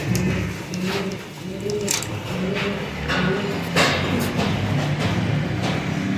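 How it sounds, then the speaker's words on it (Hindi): Rampuri pigeons coo in a steady, repeated rhythm close by, soft throaty calls layered over a continuous low background rumble with a few brief sharper noises. "ये है रामपुरी कबूतर दोस्तों।"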